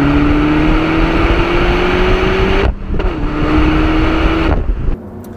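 A Peugeot 308 GTi engine in sport mode drones steadily with a rising whine as it accelerates, pauses briefly for a gear change, then pulls hard again before easing off.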